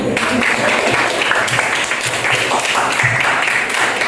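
A room of people claps steadily for several seconds, a dense, close wash of applause.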